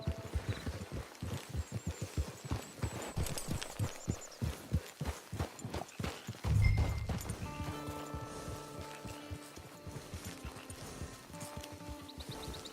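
Rhythmic clip-clop of horse hooves in Red Dead Redemption 2 Online, steady walking beats up close that fade into a softer background of game ambience and music-like tones.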